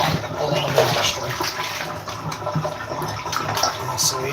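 Water pours steadily into a bathtub being filled for a bath with Epsom salts, a continuous close rushing hiss with faint voice in the background.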